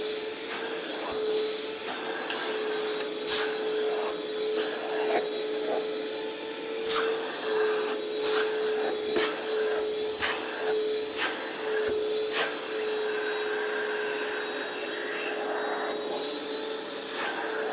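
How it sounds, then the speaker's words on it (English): A hot water carpet extraction machine cleans a staircase carpet at 150 PSI, its steady motor whine running throughout, with repeated short sharp bursts of spray and suction as the wand passes over the steps. "we're hot water extracting the staircase"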